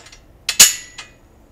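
A metal bolt being placed into the holes of pipe-and-drape base hardware, a few sharp metallic clinks, one louder ringing knock between two lighter taps, close and clear with no talking.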